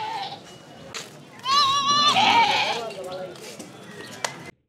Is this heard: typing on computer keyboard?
no